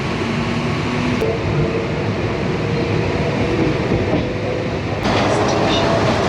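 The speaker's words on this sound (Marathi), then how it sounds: "आता वैतरणा रेल्वे स्टेशनवरून सुद्धा आपण निघालो" Virar-Dahanu local train pulling out of Vaitarna station, a steady loud rumble of wheels and carriage noise throughout, with a brief sharp tone near the start and a brighter rise in the noise toward the end.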